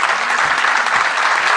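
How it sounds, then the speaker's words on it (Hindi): Loud, dense applause from a seated audience in an auditorium at a Hindi comedy poetry recital, steady and close throughout with no voice over it. "एक बार इस सभागार में बैठी एक एक बेटी, एक एक बहन के लिए जोरदार ताली हो जाए"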